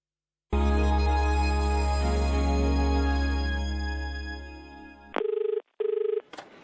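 A telephone bell rings loudly and continuously for several seconds, then fades, followed by two short electronic tone bursts as a bank's line is answered; no talking.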